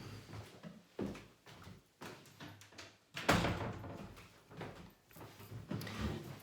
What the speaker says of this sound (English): I'm just going to shut the door a second.